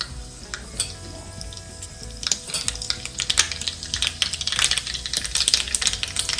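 Mustard seeds, turmeric, asafoetida, curry leaves and crushed chilli thecha sizzle and crackle in hot oil for a potato tempering, a dense frying hiss with sharp pops and occasional scraping of a utensil, close and alone.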